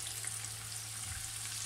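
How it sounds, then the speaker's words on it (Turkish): Thinly pounded chicken schnitzel fries in plenty of hot oil, giving a close, steady crackling sizzle with a faint low hum underneath. "Mümkün olduğunca tek tek kızartın. Böylelikle bol yağın içerisinde"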